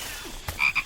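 A frog croaks in a couple of short, close, distinct calls amid a faint background, with a baby tiger nearby preparing to pounce.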